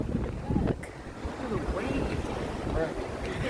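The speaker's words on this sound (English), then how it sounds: "But these waves are crazy. The seas are so rough right now." Rough ocean waves wash and churn near Costa Maya beach, a continuous surging roar mixed with wind buffeting the microphone while people talk over it.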